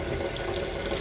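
Tap water runs steadily into a pot that holds some vinegar, a close, continuous splashing rush with no talking.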